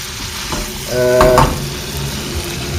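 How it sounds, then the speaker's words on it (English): Food frying in a pan over a fairly high flame: a steady close sizzle with a louder swell as the pan is stirred, no voices. "When you fry this, it smells so good."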